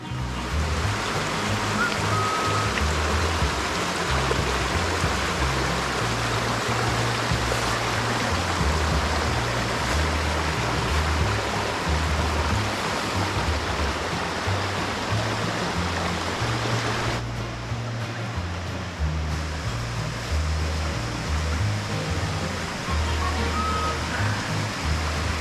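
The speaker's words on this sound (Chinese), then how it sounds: "我们来听听看这个水声吧。" Spring water from a stream runs beside a forest trail, a loud, unbroken rushing flow that holds steady throughout with no voices over it.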